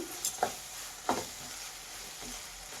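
Spiced tomato rice masala with garam masala being stirred in a pan: a few soft scraping strokes of a spoon against the pan over a faint steady sizzle, with no talking.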